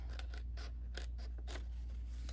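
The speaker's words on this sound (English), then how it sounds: "It's really helpful to use a decent pair of scissors." A decent pair of scissors trims sheets of print paper, giving a series of crisp snipping and slicing strokes, about six cuts in steady rhythm, close and clear over a low steady hum.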